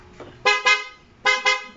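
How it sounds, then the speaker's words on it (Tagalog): A loud horn on a Barako 175 motorcycle sounds in two pairs of short, blaring double honks, close and clear, with nothing else around them. "Loud horn."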